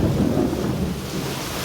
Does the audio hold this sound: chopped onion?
no